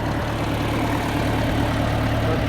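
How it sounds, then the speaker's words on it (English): Old John Deere 2020 tractor engine running steadily while mowing weeds in a pasture with a bush hog, a close, loud, low diesel drone with even throb and no pauses. "I'm going to be recording with the tractor running"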